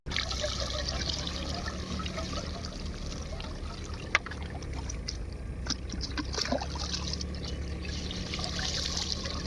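Water gushing from a village water pump machine that had sat unused for a long time, a continuous splashing trickle and pour with a faint motor hum underneath and a few sharp clicks, no talking.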